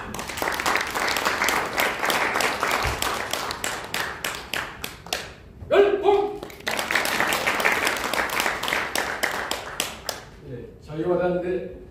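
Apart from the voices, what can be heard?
loud applause welcoming a speaker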